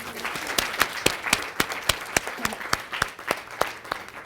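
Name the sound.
applause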